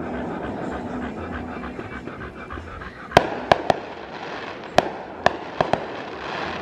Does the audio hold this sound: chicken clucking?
no